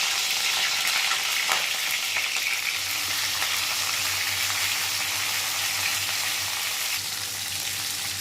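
Onions sizzle and fry steadily in hot oil in a pan as the base for a gravy, a continuous close crackle with occasional stirring scrapes and no talk.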